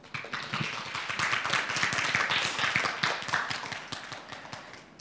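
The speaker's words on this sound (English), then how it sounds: "Please join me in giving Sam a warm round of applause." An audience at a career talk event claps to welcome the host and moderator, the sharp claps dense and close and swelling in the middle before thinning out toward the end.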